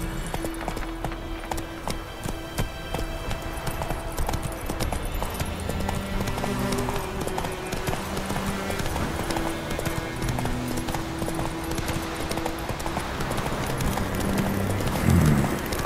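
Rapid rhythmic hoofbeats of the horse galloping steadily in The Witcher 3, a continuous clip-clop under a dense layer of game music and ambience.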